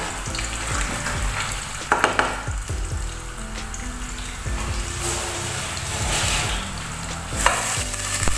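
Garlic frying in hot oil in a pan for binagoongang manok, a loud, continuous sizzle with crackling bursts and scraping stirring sounds, running steadily throughout without speech.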